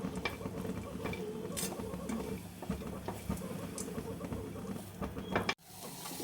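Steady scraping and clinking of a spoon stirring boiled cauliflower curry in a pan, with a soft hiss underneath and a brief knock near the end.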